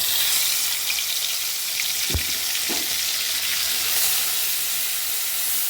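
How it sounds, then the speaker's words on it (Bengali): Spice paste of crushed onion, cumin, garlic paste, turmeric and salt frying in a pan, a steady close sizzle with a couple of soft knocks of a spatula partway through. "মশলাটা কষিয়ে নিই, তারপরে আমি মাছটা দিব।"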